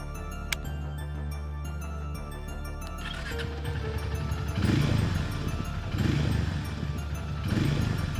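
A Hero Mavrick 440 motorcycle runs off-road with a steady engine drone that rises into repeated revving surges, close and fairly loud.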